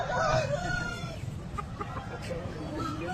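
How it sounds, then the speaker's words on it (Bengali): Chickens and roosters at a poultry market cluck and crow over a busy, noisy background, with a rooster's call rising above the steady flock chatter and some talk mixed in. "হ্যাপি হ্যাপি সব মুরগি আছে কাকার।"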